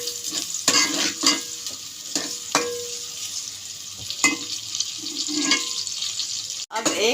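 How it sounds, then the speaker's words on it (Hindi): Onions brown in a pan, sizzling softly under repeated sharp stirring scrapes and clinks of a spatula, with a sudden knock near the end. "अब एक तरफ हमारी प्याज ब्राउन हो रही है"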